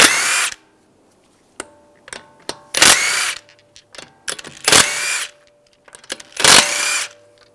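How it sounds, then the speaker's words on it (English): A 19mm socket on a power tool spins lug bolts off a 2013-2016 Dodge Dart front wheel, loud whirring bursts repeated several times with metallic clinks and rattles between them. "Take the lug bolts out."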